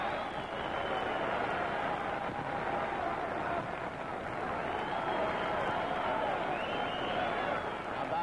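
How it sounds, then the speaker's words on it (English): Boxing-match crowd applauding as a bout nears its end, a continuous broad wash of clapping and crowd noise, moderately distant and steady throughout. "Applauding. They like the boxing match."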